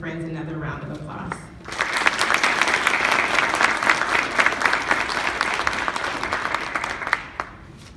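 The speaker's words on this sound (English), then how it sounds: "Will everyone please join me in showing these family members and friends another round of applause." Audience applause fills a graduation ceremony for the officers of OBC 108, a loud, steady wave of clapping lasting several seconds after a brief spoken request, then tapering off.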